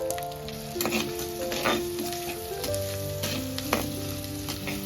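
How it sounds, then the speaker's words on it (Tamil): Steady, close sizzling of small onions frying in hot sesame oil with garlic, with occasional stirring scrapes and faint musical tones running underneath. "இப்ப நான் நறுக்கி வச்சிருக்க 200 கிராம் சின்ன வெங்காயத்தை உள்ள சேர்த்துக்கிறேன்."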